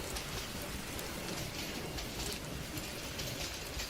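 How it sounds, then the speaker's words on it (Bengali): Heavy rain in a village at night, a dense, steady hiss of downpour that fills the whole scene without a break. "চারপাশে ঝুম বৃষ্টি।"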